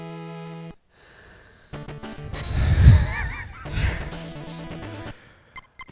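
Cartoonish birds honk and squawk in the Power Rangers Time Force video game, a loud cluster of calls mixed with game effects and a crash-like burst, then brief trailing blips.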